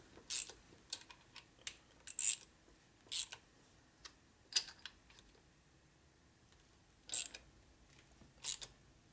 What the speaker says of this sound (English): I got to tighten it up. Quarter drive socket here.